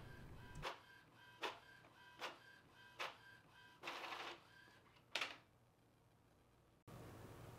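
Epson XP-15000 inkjet printer feeding sticker paper, with a run of evenly spaced mechanical clicks and ratchets, a longer whirring pass, then another sharp clack and a final steady hum, heard up close in a quiet room.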